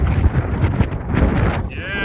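Strong wind at about 32 mph buffets a microphone outdoors in gusty rumbles, with a person speaking under the blowing noise.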